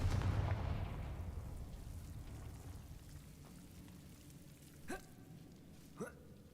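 A Confringo blast spell from the video game Hogwarts Legacy opens with a loud booming burst that fades into a long rumbling decay. Two short, fainter crackling hits follow later.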